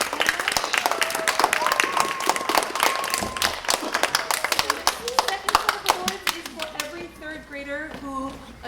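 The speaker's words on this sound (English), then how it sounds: "Give them a round of applause as they go." Audience applause after a third-grade string recital, a steady wash of many clapping hands filling the room, tapering toward the end as children's voices and a speaking adult come through.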